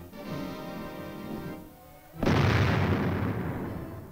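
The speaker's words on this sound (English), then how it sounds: "The recoilless rifle, a weapon of tremendous destructive power." A recoilless rifle fires a single tremendous blast midway through, the sharp boom breaking over a steady tonal drone and rolling into a long, loud, roaring decay.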